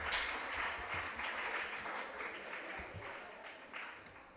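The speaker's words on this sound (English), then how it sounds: "A resounding round of applause." An audience at a regional junior science and maths quiz in the Ashanti Region claps, a dense round of applause that swells and then slowly tapers off, heard from nearby.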